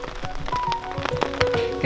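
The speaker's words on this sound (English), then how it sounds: "Today is day number 3 and it is raining." Rain patters onto a surface around a hammock in the forest of Hossa National Park, Finland, a steady close wash of drops with scattered sharper taps and faint tonal sounds threaded through.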